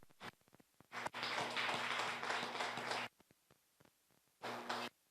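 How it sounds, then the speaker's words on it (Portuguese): Church congregation clapping in praise during a worship service, a dense burst of applause lasting about two seconds, then brief scattered claps and another short round, with a low hum underneath. "Vamos aplaudir o Senhor?"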